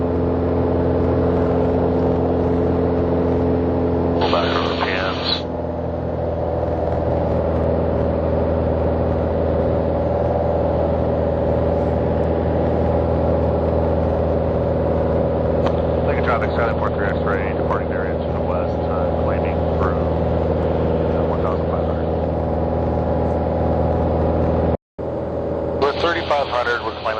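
A Cessna 182 engine drones steadily in flight during a cross-country climb toward 4,500 feet, a constant close propeller hum with brief radio and cockpit bursts over it.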